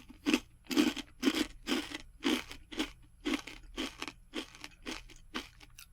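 Crunching of a bran-based snack chip, a biscuit- or cereal-like chip without corn: about a dozen crisp, close bites and chews in a steady rhythm, loud and dry, with no talking.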